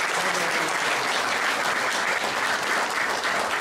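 A seated audience at a book launch gives dense, steady applause, many hands clapping at an even, loud level for the whole stretch.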